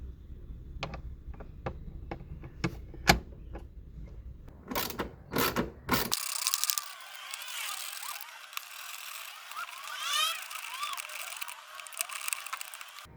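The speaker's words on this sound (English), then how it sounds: "Use a 12mm socket to remove all 4 bolts." A ratchet on a 12mm socket loosens the shift lever bolts inside a Kia Sportage, giving a run of sharp close clicks, then a few louder bursts and a steady raspy ratcheting whir.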